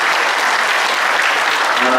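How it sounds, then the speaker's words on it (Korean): An indoor audience at a live urban and cultural regeneration event gives steady, dense applause, with some voices faintly audible under the clapping. "큰 박수 부탁드리겠습니다"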